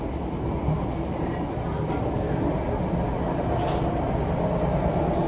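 Steady, close rumble and rattle from inside a moving passenger train carrying a baby, holding an even loudness throughout with no clear breaks.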